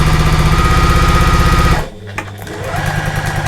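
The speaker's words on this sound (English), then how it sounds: "Start again with a nice back stitch" A sewing machine runs loud and close while back-stitching a large fabric storage bag, a fast steady whir that halts briefly partway through, then starts up again.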